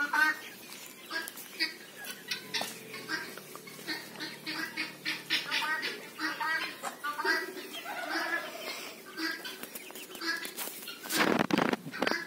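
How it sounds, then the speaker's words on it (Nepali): Local chickens on a farm cluck and chatter in a busy, continuous flock chorus with other birdsong, fairly close and steady, with a louder burst near the end. "लोकल कुखुरा"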